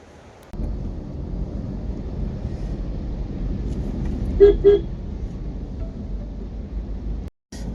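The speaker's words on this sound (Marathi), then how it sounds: "असं भयंकर ट्रॅफिक आहे मुंबई पुणे एक्सप्रेस वेला" Heavy night traffic crawls along the Mumbai-Pune Expressway near Lonavala, a steady low road rumble with two short car horn toots midway and a brief dropout near the end.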